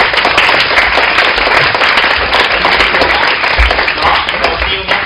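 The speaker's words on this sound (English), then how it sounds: "give another round of applause to Professor Wang" A lecture-hall audience applauding a professor after a global health talk, dense and loud continuous clapping from many hands close by, steady for several seconds without talk.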